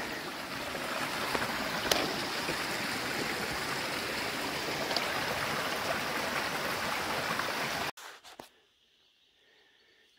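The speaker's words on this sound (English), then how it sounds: "And a little creek." A small creek flows beside a forest track on New Zealand's Te Araroa Trail. The close, steady rush of water fills about eight seconds, then cuts off abruptly into near silence.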